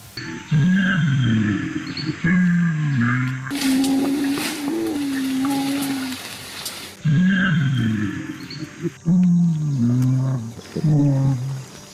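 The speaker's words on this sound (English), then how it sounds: "gorillas have also been recorded singing while they eat" A group of gorillas singing while eating: deep, wavering hums and low calls rise and fall in overlapping phrases, with a brief stretch of broadband rustling noise in the middle.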